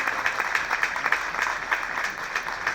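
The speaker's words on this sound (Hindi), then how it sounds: "जोरदार तालियां इन बच्चियों के लिए।" An audience at a Swarnim Seva Mahotsav 2024 celebration claps for a group of young girls, a sustained wash of applause with a rhythmic pulse of clapping, fairly loud and steady throughout.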